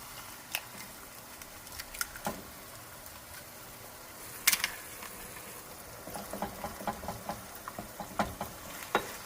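Homemade Mexican-style chorizo is stirred and scrambled in a frying pan, giving a soft, steady sizzle with scattered scraping and clicking spatula taps that grow busier toward the end, close by and without speech.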